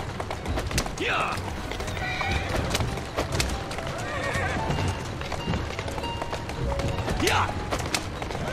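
A horse in Assassin's Creed Syndicate gallops with rapid clip-clop hoofbeats and two loud whinnies, one near the start and one near the end, while a voice talks over the action.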